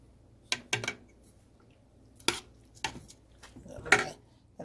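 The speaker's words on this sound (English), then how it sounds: "I'm going to stir it." A pot of food is stirred on a stovetop, utensil knocking against the pot in a handful of separate scraping clinks, fairly close, with quiet gaps between strokes and no talking.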